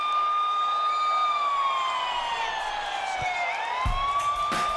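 Police-style sirens wail in a rising and falling sweep during a wrestling ring entrance at a WCW Thunder event, loud and continuous, with a few sharp thumps near the end.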